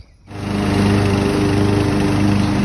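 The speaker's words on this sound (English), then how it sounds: "Actually mowing the lawn." A lawn mower engine kicks in after a brief quiet moment and then drones steadily and loudly nearby, a constant buzzing hum.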